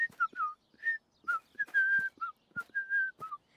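Several children blow through the straws of empty juice boxes, making a series of short, high, wavering whistles with brief gaps between them, close and fairly loud, with no talking.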